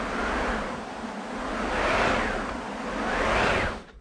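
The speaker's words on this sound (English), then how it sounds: "A wind machine." A wind machine, a cranked percussion effect drum rubbing against canvas, giving a steady whooshing wind sound that rises and falls in three slow gusts before stopping abruptly.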